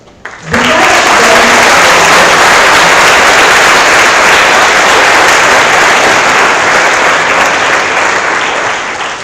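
New first-year MBBS students at a white coat ceremony burst into loud, sustained applause for their parents, the clapping starting abruptly and staying full and dense until it begins tapering at the end.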